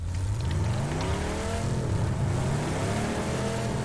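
A car driven in PUBG during a ranked match, its engine revving steadily with rising and falling harmonic whine, moderately loud and continuous for a few seconds, with no voices.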